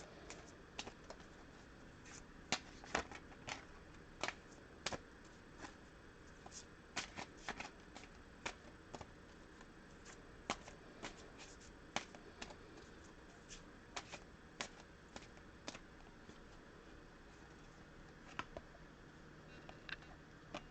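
Oracle cards being shuffled by hand, with a long, quiet stretch of crisp riffling and snapping card flicks at an uneven rhythm, close and alone.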